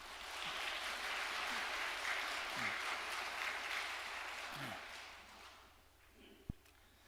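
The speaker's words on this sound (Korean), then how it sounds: "우리 성가대장님을 위해서 박수 한번 보내겠습니다" Audience applause at a church worship service, steady, moderately distant clapping from a crowd that holds for several seconds and then fades, with a sharp thump near the end.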